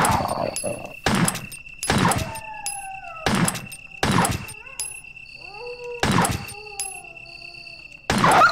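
Dog attack in the Resident Evil horror video game, heard as a run of loud, sharp thuds and snarling bursts at roughly one-second intervals, with game tones between hits.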